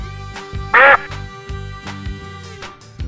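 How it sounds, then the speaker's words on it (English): A duck gives a single loud, short quack up close, heard alone with no voices. "Ducks swim in the pond."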